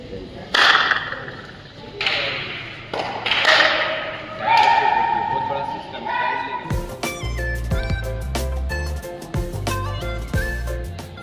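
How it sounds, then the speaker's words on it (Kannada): A few sharp hand claps in a hall at Golconda Fort, Hyderabad, spaced about a second apart, each ringing out with a reverberant echo. Other tonal sounds follow. "ಇಲ್ಲಿ ನಿಂತು ಚಪ್ಪಾಳೆ ತಟ್ಟಿದ್ರೆ ಅಲ್ಲಿವರೆಗೆ ಹೋಗಿ ಕೇಳಿಸುತ್ತೆ"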